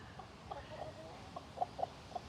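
A broody hen clucking softly near a garden fence, faint and distant, a few short low clucks scattered in the second half over a quiet outdoor background.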